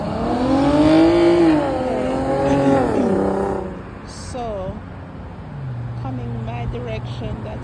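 Road traffic passing on Oakland Park near Inverary, vehicles rushing by close and loud with rising and falling engine whine, fading into a steadier background hum, with someone talking over it.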